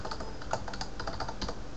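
A router password being typed on a computer keyboard, a quick, steady run of light key clicks, close and fairly quiet, with no talking.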